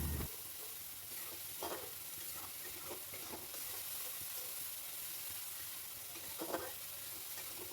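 Spice paste with tomato fries and is stirred in a pan for a yam and potato curry, giving a soft, steady sizzle with periodic spatula scrapes, fairly quiet and close.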